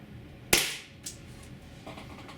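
A Tiberius T9.1 HPA paintball carbine fires a sharp, loud shot, then a fainter second pop and a softer third shot trailing behind, with nobody speaking.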